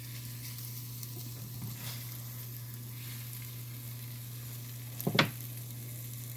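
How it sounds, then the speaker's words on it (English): Cube steaks searing in a pan, a soft steady sizzle over a low hum, with a single sharp utensil scrape or clatter near the end, fairly quiet. "You just want a light little sear on them."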